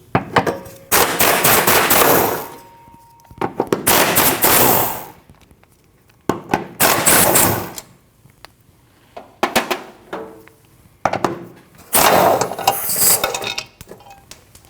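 Rapid bursts of an impact wrench or ratchet spinning out four 10mm bolts from the center driveshaft bracket of a 2013-2019 Ford Escape, loud and close, in several separate runs with short pauses between.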